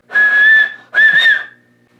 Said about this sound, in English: I wish if only I could whistle loudly